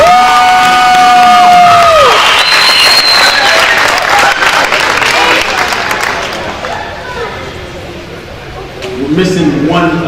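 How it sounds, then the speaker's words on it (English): At a school banquet, a large audience breaks into loud applause mixed with cheers and whoops, peaking early and then gradually tapering off before a brief renewed swell near the end. "let's give a big round of applause for our Christian leader."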